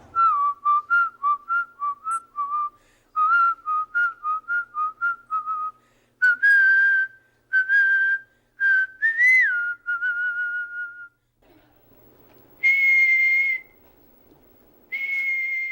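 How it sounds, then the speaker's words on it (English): A person whistles a series of short, rapid notes, then longer sustained tones with pauses between, clear and close. "There's no end to the styles of whistling."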